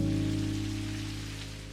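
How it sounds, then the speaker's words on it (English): Steady rain falling outside in Necrobarista, a continuous even patter under a low hum, loud and close with no voices. "The guy's out in the rain."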